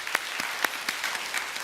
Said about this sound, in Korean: 다시 한번 박수를 쳐주세요.